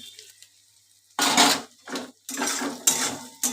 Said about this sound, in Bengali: ভালো করে ডিমটা পেঁয়াজটা চিনি দিয়ে একসঙ্গে নাড়াচাড়া করে নিচ্ছি।